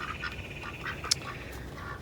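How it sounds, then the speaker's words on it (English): Pet ducks quacking at a moderate distance, a few short calls scattered over a steady low background hum, with one sharper, louder call near the middle. "I'm not getting any more ducks. I told Scott and Olivia, I want to keep these two"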